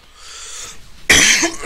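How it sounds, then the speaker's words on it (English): A single close, loud cough bursts out after a brief quieter throat sound. "coughing."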